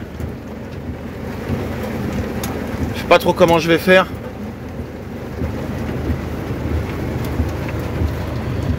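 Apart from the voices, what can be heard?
thunderstorm with heavy rain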